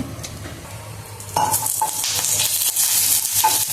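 Chillies frying in a little oil in a pan, with steady close sizzling and sharp spatula scrapes and taps that grow louder midway, and no voices.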